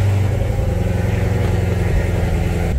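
A Corvette Z06 fitted with a new MGW shifter pulls away, its engine rumbling loud and close in a steady, continuous drone with no talk.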